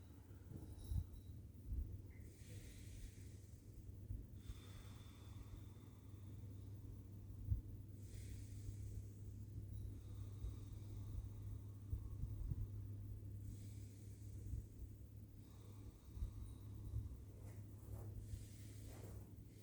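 Slow, deep belly breaths during a Kundalini yoga session come as faint, hissing inhales and exhales every few seconds over a low, steady room hum.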